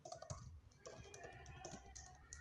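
Soft, quick keystrokes on a laptop keyboard as Python code is typed, a steady run of close, quiet clicks with no talking.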